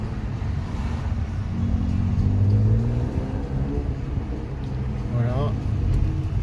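Low, throaty Mercedes-AMG C43 Coupé engine rumbling and revving up and down up close, with people talking in French over it.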